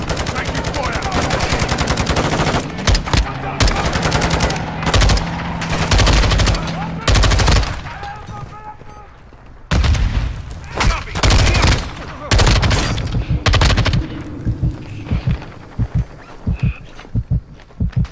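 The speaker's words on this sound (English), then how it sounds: "Taking fire." Rapid bursts of automatic gunfire in a Mt. Zaya Defender battle, loud and close, coming in repeated long volleys with brief pauses and faint radio-style voices underneath.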